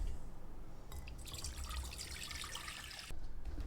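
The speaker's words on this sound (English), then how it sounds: "let's get some water into our pot and boil it up and get our sugars all dissolved" Water for a homemade rum sugar wash is poured into a pot, making a steady hissing splash and trickle that runs for a few seconds and then stops.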